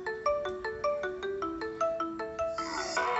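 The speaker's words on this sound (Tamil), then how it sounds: "ஓகே, இது தான் பெஸ்ட் ரிங்டோன் நினைக்கிறேன்" Xiaomi Mi Mix 2 ringtone playing from a Poco M2 Pro phone, a bright melodic sequence of evenly spaced plucked tones rising and falling in a steady rhythm, growing fuller near the end.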